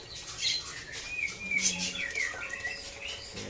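A caged songbird at Jack Bird Farm in Yogyakarta, likely among magpie robins, sings clear whistled phrases and chirps, fairly close, with a brief soft flutter and quiet background, no talk.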